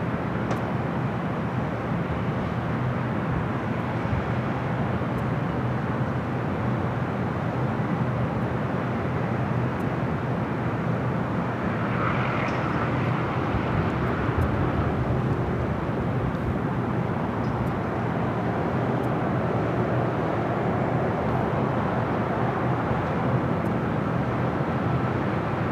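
Steady broadband jet roar from airplanes at Los Angeles LAX airport, a continuous loud rumble throughout with a slight swell midway, no talking.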